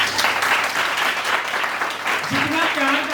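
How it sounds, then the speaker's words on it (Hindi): A church congregation claps steadily throughout, a dense wash of hands under a preacher's voice that rises near the end. "ताली बजाइए।"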